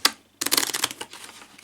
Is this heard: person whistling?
no